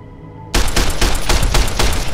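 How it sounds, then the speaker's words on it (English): Service rifle fire in the video game Fallout: New Vegas, starting abruptly and continuing as a rapid, steady burst of loud, close shots, about a dozen in two seconds, with no talk. "Let's switch to our service rifle."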